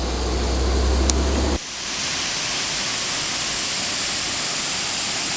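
The Arado waterfall in Peneda-Gerês park, Portugal, roars as a steady broadband rush of falling water, loud and close after a brief shift in tone near the start.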